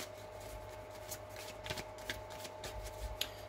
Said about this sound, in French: on va faire un tirage en 3 cartes.